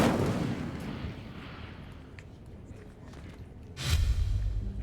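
A fire spell cast in the Hogwarts Legacy video game: a loud whooshing burst at the start fades into a rumbling bed, then a second sharp blast of flame flares near the end with a deep low roar.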